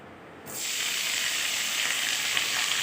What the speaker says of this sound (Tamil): எண்ணெய் ஊற்றி ஃபஸ்ட்டு நாம் கருவேப்பிலையை போட்டு நல்லா வணக்கிக்கலாம்.